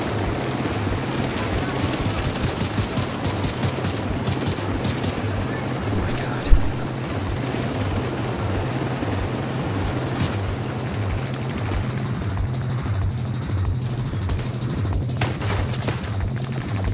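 Helicopter in the video game The Division 2, a steady loud rotor thump pulsing throughout with dense combat noise and a sharp bang near the middle, no voices.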